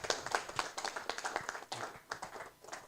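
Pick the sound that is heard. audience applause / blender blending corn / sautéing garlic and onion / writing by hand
audience applause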